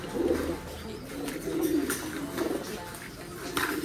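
Male pigeons in a cage coo in low, throaty, repeated phrases, close by, with faint rustling in the background.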